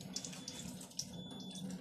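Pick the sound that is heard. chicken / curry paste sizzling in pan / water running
water running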